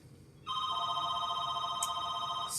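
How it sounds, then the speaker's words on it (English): A telephone rings in the background of a quiet room. A steady electronic ringing tone starts after a brief silence and holds evenly, fairly faint and distant, with no talk over it. "You can just ignore the phone ringing in the background"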